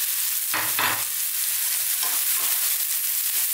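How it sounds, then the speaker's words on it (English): Eggplant stir-fries over high heat with chopped onions, giving an even, close sizzle broken by a few louder scraping bursts as the pieces are tossed and stirred. "So, continuing on this high heat and stirring all the time, we'll let this go for about 2 to 3 minutes."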